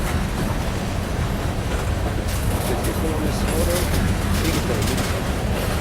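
Norfolk Southern locomotive NS 9025 leads freight train 42D through Atlanta, Georgia, making a loud, continuous rumble of rolling cars and engine noise. The rumble fills the whole stretch with no break.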